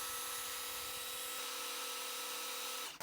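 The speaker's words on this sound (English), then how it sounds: "First up, we have the old school drill pump here being run by a DCE050B with a 5 amp hour power stack." Old-school cordless drill pump driven by a DCE050B drill on a 5 amp hour battery, transferring water on level ground: a steady, loud motor whine with a constant tonal hum, cutting off abruptly at the very end.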